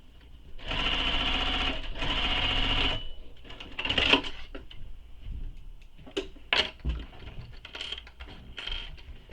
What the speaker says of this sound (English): So sew it all the way across.